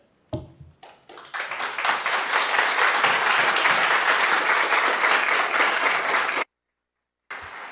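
Applause breaks out at a school board meeting, a brief clap or two followed by a loud, sustained round of clapping that cuts off abruptly, then a faint resumption after a short silence.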